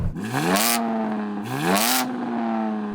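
A tuned BMW engine revs hard twice in quick succession, each blip rising steeply and dropping back to a throbbing idle. Loud and near, with no voices.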